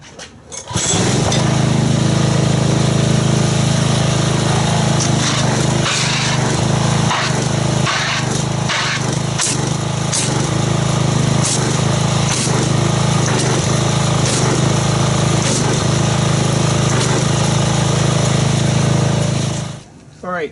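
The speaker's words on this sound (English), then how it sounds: "the initial foam that we get from agitating with the pressure washer" Loud continuous motor drone and spray of a pressure washer churning car wash soap in a bucket, running steadily for about twenty seconds with scattered knocks and hiss, close by, then cutting off at the end.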